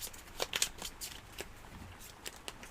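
A deck of cards is shuffled during a tabletop game, giving quiet riffling flicks and soft shuffles in brief bursts, close but faint.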